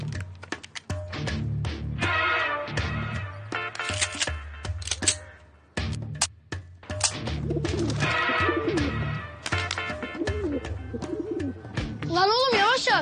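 Pigeons cooing in short soft bursts among rustling and wing flutters, with voices talking and a few sharp clicks around them; fairly close but not loud.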